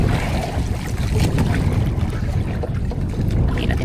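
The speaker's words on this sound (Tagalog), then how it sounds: "Palya-palya kasi makina natin mga amigo." A misfiring fishing-boat engine out on the Pacific during bluefin tuna fishing, a steady low rumble under heavy wind and water noise, running continuously with no voices.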